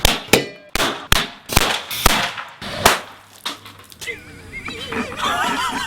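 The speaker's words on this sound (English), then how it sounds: "I put a grill top inside and had the firecracker explode on top of the grill top" A firecracker bursts on a metal grill top set inside a cardboard box, giving a run of loud, sharp cracks with a metallic clang. The blasts come at irregular intervals, then fade into a scratchy, rattling noise tail.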